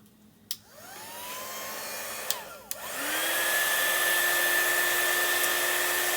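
Hair dryer switched on to dry chalk paste on a craft project, clicking on and whirring up to a steady, close, continuous airy roar with a brief click and pitch shift before settling.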